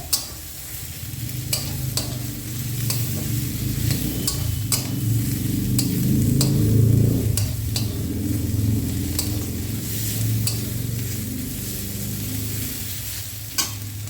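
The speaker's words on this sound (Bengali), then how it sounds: "দিয়ে একটু ভালোভাবে ভাজতে হবে যাতে কাঁচা গন্ধটা না থাকে" Coarse ginger-garlic paste fries in a pan with a steady sizzle and occasional stirring scrapes and clicks of a utensil, continuous and close, no voices.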